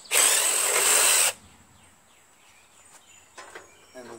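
An impact wrench works a bolt on the cover of a 6HP Tecumseh Jacobsen Imperial 26 dual-stage snow blower: one loud, close burst of about a second, then quiet ticks and small clanks of handling metal parts.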